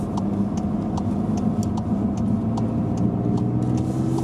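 A car pulls away from a traffic light in Nijmegen during a driving lesson, its steady engine hum heard from inside the cabin, with faint ticking over the continuous drone and no voices.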